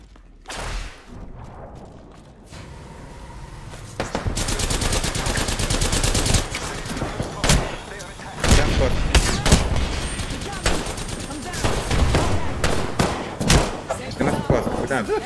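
Rapid gunfire from a shooter video game crackles in dense bursts and single shots after a quiet start, loud and sustained, with a voice talking briefly.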